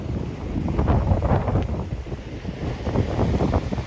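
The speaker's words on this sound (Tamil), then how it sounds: "பாருங்க காற்று அடிக்கிறதால தான் மரம் எல்லாம் அப்படி வளையுதுன்னு பாத்தீங்களா" Strong wind roars in gusts through bending trees during heavy rain in Jaffna, buffeting the microphone with a heavy, rushing low rumble throughout.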